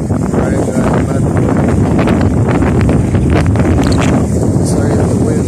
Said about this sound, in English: Sorry if the wind is howling in the background. Very windy here.